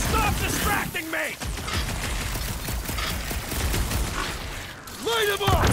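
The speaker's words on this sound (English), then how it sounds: "Light them up, Rocket" Gunfire in Marvel's Guardians of the Galaxy, with dense, loud bursts of shots and impacts running through the whole battle. Voices talk over the fighting.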